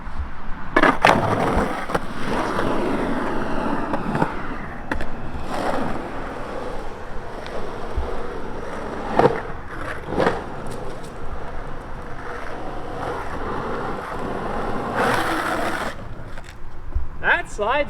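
A skateboard on Powell Dragon wheels rolls loudly over the rough ground of a skate park, with a continuous gritty rumble broken by clacks and scrapes from the board.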